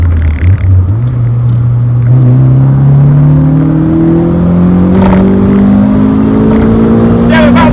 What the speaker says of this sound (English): Let's give a bit of second gear pull